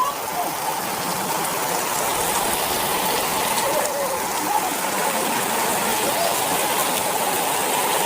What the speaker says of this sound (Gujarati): બહુ ધમાધાર વરસાદ ચાલુ છે